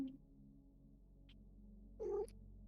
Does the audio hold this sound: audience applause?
no